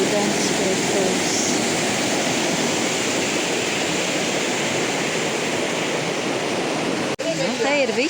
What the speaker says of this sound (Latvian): Un ūdens krituls.